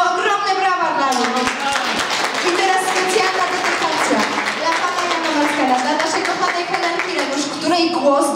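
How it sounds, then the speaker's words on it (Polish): Audience applause at a 40th-anniversary celebration, a dense sustained wash of clapping that fills the whole stretch, loud and steady with voices mixed in. "Ogromne brawa dla nich."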